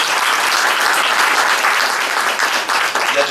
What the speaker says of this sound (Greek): Ένα μεγάλο χειροκρότημα λοιπόν για τον κύριο Καλογεράκη.